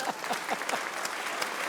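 Applause from a studio audience on a Hindi comedy show, with a voice and laughter-like bursts over the clapping, which is steady and moderately close across the short stretch.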